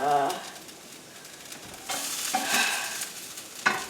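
Hash browns in a frying pan give a soft sizzle while a spatula scrapes and flips them, with brief louder bursts of scraping and frying toward the end, close and moderately quiet.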